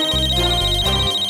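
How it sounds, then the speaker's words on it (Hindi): A steady electronic ringtone plays a repeating pattern of low tones under a constant high whine, with no voices. "मुझे भी फोन आया।"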